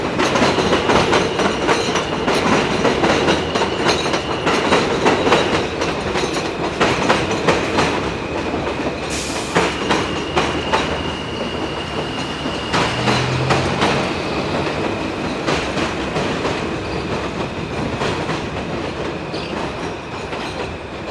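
Two trains rumble past together in New York City, a loud continuous clatter of rail cars with clickety-clack wheel beats and brief metallic squeals throughout, close by and steady for the whole stretch.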